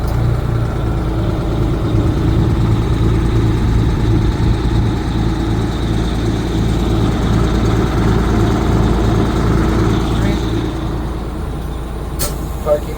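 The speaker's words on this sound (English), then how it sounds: "Switch, ignition on, out of gear, start button." An Amertek 4x4 fire truck's diesel engine runs at a steady, loud low idle throughout, a continuous rumbling drone that eases slightly near the end before a brief sharp hiss.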